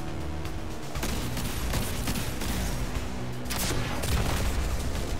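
Gunfire from a Destiny 2 mission plays in a dense, continuous stream of shots and booms, with bursts swelling loud near the middle and end and no talk over it.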